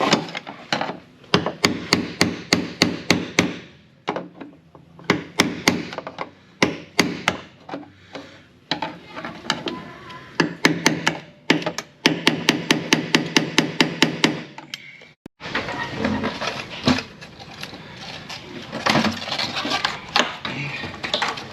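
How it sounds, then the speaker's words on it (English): Rapid bursts of sharp hammer blows on a flathead screwdriver knock on a metal fuel pump ring of a 2006 GMC Sierra in rhythmic runs with short pauses, then give way to a steadier rattling clatter. "you're gonna use a hammer and a flathead screwdriver, and you're just gonna start knocking this ring off here."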